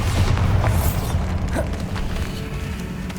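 A Bombarda blasting spell goes off in Hogwarts Legacy, a dense low boom and mechanical creaking that roll steadily and loudly through a few seconds of game noise.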